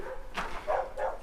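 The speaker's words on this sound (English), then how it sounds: "It sounds like the dogs are fighting with some other dog." Two or three short, close barks and yips from dogs scuffling with another dog follow one another quickly over a faint background.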